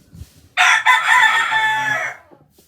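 A fighting rooster of mixed breed, not a pure breed, lets out one loud, close crow on a gamefowl farm, with a brief rustle before it.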